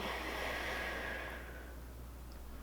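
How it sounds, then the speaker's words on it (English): A slow, breathy exhale through the mouth, a soft sighing rush that tapers away after about a second and a half, quiet and close. "Breathe out through your mouth."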